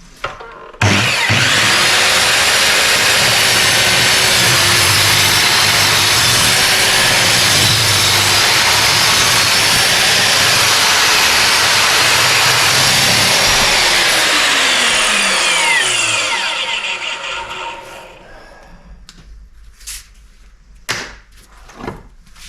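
A JCB 254mm sliding mitre saw cuts through a piece of 12.5-inch timber: a loud, steady whining roar that holds for about fifteen seconds, then winds down as the blade spins to a stop, with a few faint knocks afterward.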